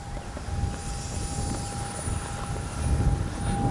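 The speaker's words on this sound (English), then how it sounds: "It's a good flying jet there." An X-Fly 40mm RC jet with a J-65 turbine flying outdoors gives a steady high turbine whine over a rumbling roar that swells slightly near the end.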